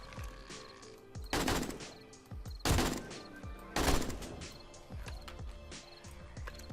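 In the video game 7 Days to Die, gunfire breaks out in rapid automatic bursts, with three loud sustained volleys standing out over scattered single shots and game noise.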